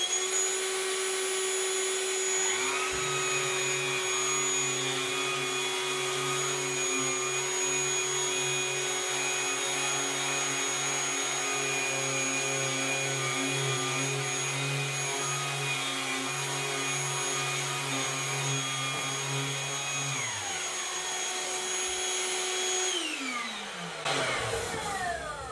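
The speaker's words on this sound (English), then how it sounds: "turn the vacuum on." A Ryobi P3240 battery project vacuum spins up and runs steadily with a loud, constant whine and hum, then winds down near the end.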